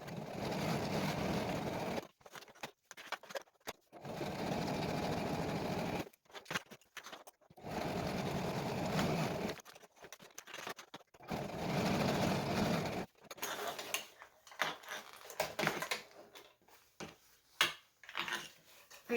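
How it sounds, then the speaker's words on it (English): A sewing machine stitches straight lines across a fabric embroidery floss binder page in several loud, steady whirring bursts, separated by short pauses, then ends in choppier, intermittent starts and stops. "I'm just going to sew from one end to the other."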